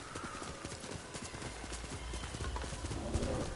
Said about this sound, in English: Yes, Kage's a good horsey. He deserves the best.